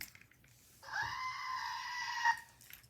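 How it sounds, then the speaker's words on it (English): A goat scream sound effect: one loud, strained, sustained bleating shriek lasting over a second, rising sharply and cutting off abruptly, alone over faint background noise. "We're going to need a goat scream."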